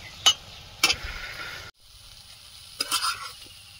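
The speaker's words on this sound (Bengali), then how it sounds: "তবু আরো একটু ভাজবে মজবে, তার জন্য একটু চাপা দিয়ে রাখবে।" Taro stolons (kochur loti) with prawns fry in a pan, a soft sizzle broken by a few sharp spoon scrapes and clanks, a brief pause as a lid goes on, then muffled frying resumes; no talk.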